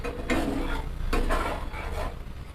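A spoon stirs a Bengali salted fish curry with green tomato in a pot just after water is added. Two or three soft scraping, sloshing strokes are heard close up with a faint background hiss, and no one speaks.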